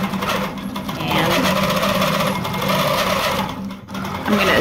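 An embroidery sewing machine stitches out a design, its needle running in a steady, loud, continuous rapid chatter close up with no pauses.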